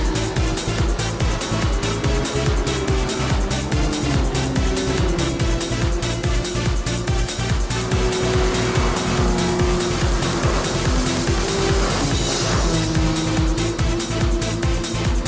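Race cars roar at full throttle through a street battle in the video game Gran Turismo 6, with a steady loud engine drone, shifting pitch, and recurring tire squeals throughout, no voices.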